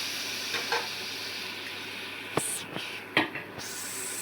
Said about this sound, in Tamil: குழம்பு நல்லா கொதிச்சிருச்சு பாருங்கள்.